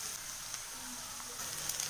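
Sliced onions and dried red chillies sautéing in a pan make a faint, steady sizzle with a soft hiss, a few small crackles rising near the end, no voices.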